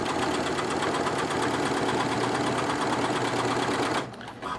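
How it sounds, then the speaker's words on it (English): Janome MC9900 sewing machine stitching leather, running at a steady fast rhythmic hum close by for about four seconds before stopping. "Now I'm going to sew."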